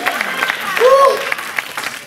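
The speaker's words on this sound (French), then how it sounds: "Non pas énorme, mais on applaudit, mes bien-aimés" A congregation at a French-speaking missionary church applauds with a soft, steady patter of clapping, a voice carrying over it throughout.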